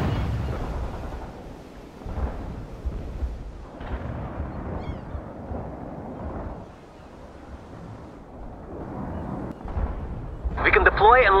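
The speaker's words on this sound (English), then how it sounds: "Want an artillery barrage?" Artillery barrage in the real-time strategy game World in Conflict, a rolling series of heavy booms and rumbling impacts over about eleven seconds, with a voice speaking over them and sharper crackling blasts near the end.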